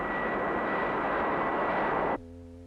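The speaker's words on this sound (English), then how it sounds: "a 40 miles per hour crosswind produced by a powerful jet engine" A powerful jet engine roars in a steady, loud broadband rush while blowing a crosswind across a car test grid, then cuts abruptly to a lower humming drone.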